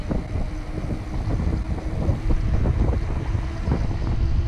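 Strong wind roars and buffets the microphone during a bicycle ride, a loud, continuous low rumble that swells slightly toward the end, with no voices.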